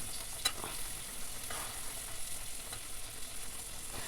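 Soaked avarekai (field bean) seeds sizzle steadily in a pan as a curry cooks, a soft continuous frying hiss with occasional scrapes of stirring, close and fairly quiet with no talking.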